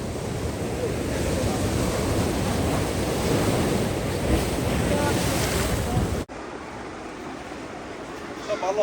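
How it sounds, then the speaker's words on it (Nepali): Surf pounds a beach near Sydney, Australia in a continuous loud roar with wind buffeting the microphone, then drops abruptly to a quieter, softer wash near the end. "वाल समुद्रको छाल"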